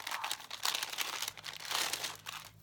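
Close, steady crinkling and crumpling of a small bag with a sticker on it as it is handled, loud and continuous for a few seconds with no talking.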